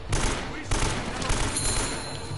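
Gunfire in the video game Uncharted: Drake's Fortune: a loud burst of rapid shots with a couple of heavier hits, continuous throughout with game noise layered over it.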